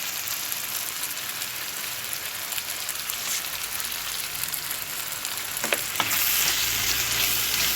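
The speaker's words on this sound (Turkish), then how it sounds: "Bir süre kaynamaya bırakıyorum." Stuffed eggplant dish simmering in a pot with hot water and fresh garlic, giving a steady, close bubbling sizzle with a brief clink near the end and no voices.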